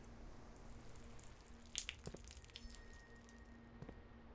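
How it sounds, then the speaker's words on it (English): Faint water trickling and dripping from the video game Blue Prince, a few soft splashes and drips near the middle over a low, steady background hum. "you get a little bit of water noise"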